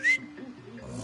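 A short rising whistle sounds once at the start, bright and close, followed by faint low background hum in the Far Cry 6 video game.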